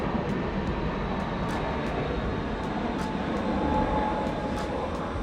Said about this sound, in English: an airplane is landing like right behind me